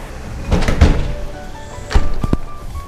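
Opening a glass corner door at The Forestias housing project produces several solid thunks and clunks, a pair of knocks followed by a couple more, close up and fairly loud.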